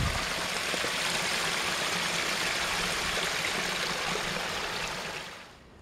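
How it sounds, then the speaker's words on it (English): Spring water flowing out of the ground beside a forest walking track on Mt Wellington, a steady close rush and trickle that fades out near the end, with no talk. "Now I've come to this really nice little section where the water just comes out of the ground."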